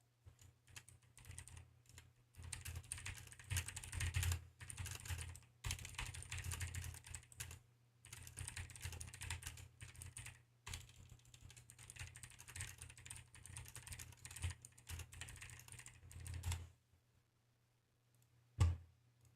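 A computer keyboard clatters in quick, steady bursts of keystrokes as a message goes into a live chat, close but quiet, pausing briefly a few times before stopping near the end.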